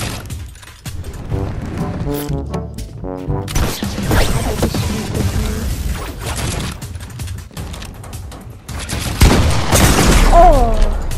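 Rapid gunfire in Fortnite aimed through a wall, with bursts of shots, booms and crashing impacts running loud across the whole stretch, mixed with game effects and voices.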